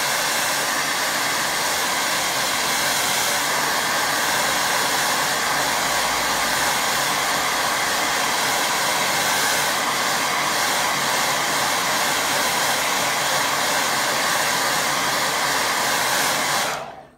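A hair dryer blows steadily and loudly up close while drying a watercolour painting of distant sheep, a constant whooshing roar that cuts off at the end.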